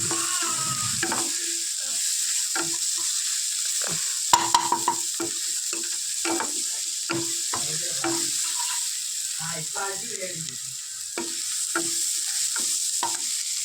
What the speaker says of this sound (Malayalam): പച്ചമുളക് ഒരു പച്ച കളറൊക്കെ മാറി ഒരു ഇതായി വരുന്ന വരെ ഇതിങ്ങനെ ഒന്ന് ഡ്രൈ ആയിട്ട് അടിച്ചോണം